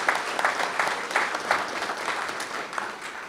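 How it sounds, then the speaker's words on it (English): A graduation audience at a fire academy ceremony gives a steady round of applause, many hands clapping together in a moderately distant hall and holding an even level for the whole stretch. "So I'd like to give them a round of applause for that."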